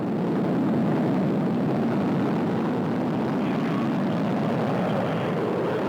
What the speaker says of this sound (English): You can see the engines firing now, going up to flight speed and liftoff.